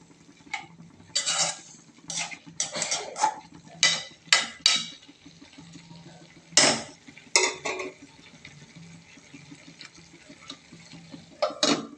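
A metal lid set back over a pan of frying mixed vegetable bhaji, heard as sharp close clanks and knocks of lid and utensils against the pan, spaced irregularly over a quiet low background, no talking.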